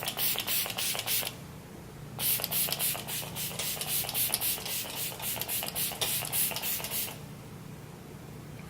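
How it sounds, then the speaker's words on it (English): Rapid bursts of a Flower Beauty Seal the Deal Hydrating Setting Spray mister hiss in two runs, close and fairly soft, with a brief pause between them. "This is the Flower Beauty Seal the Deal Hydrating Setting Spray."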